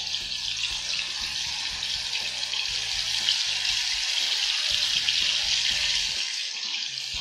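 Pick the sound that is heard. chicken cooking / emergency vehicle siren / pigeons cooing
chicken cooking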